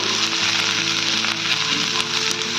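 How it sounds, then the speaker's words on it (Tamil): Dried red chillies roast in a hot pan, giving a steady, close, loud sizzle and crackle throughout with no talking. "வரமிளகாவும் பார்த்தீங்கன்னா நல்லா வறுபட்டுருச்சு"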